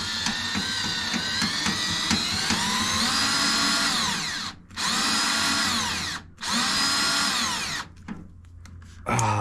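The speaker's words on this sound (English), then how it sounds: "I just need to drill them out" A cordless power drill whirring loudly in three long bursts, revving with a rising and falling pitch, with short pauses between runs.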